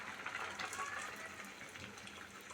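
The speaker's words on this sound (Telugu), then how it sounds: "ఇప్పుడు పాలు పోయాలి." Milk pours into a pot for semiya payasam, a soft continuous liquid gush lasting a couple of seconds, faint and close, with no voices.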